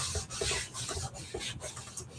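Wax rubbed onto a surface by hand with a rag gives soft, close scuffing strokes in a quick back-and-forth rhythm, with no voices.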